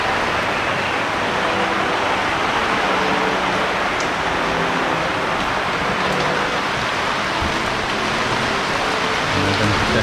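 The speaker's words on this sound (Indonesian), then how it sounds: "langsung dites hujan." Steady rain drums on a newly installed UV plastic greenhouse roof, a dense, even patter that holds loud and constant throughout with faint background murmurs.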